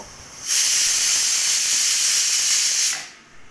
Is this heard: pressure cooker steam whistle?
yes